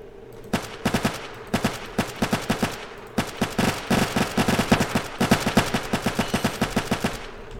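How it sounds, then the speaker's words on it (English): Automatic weapon fire in the Roblox shooter Vanguard, fired in quick rhythmic bursts of many sharp shots with short pauses between, loud and close with no talking. "somebody's shooting at me"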